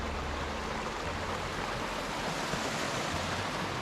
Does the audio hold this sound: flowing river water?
yes